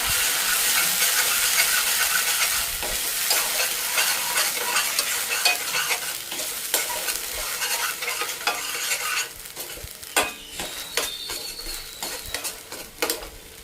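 Masala paste for stuffed brinjal curry fries in a kadai with a constant hiss as a spoon stirs and scrapes it, steady at first, then giving way to sharper, spaced clinks and scrapes against the pan.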